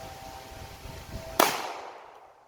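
A single loud pistol shot cracks sharply with the slide cycling, ringing briefly into an echoing decay outdoors after a stretch of low background noise.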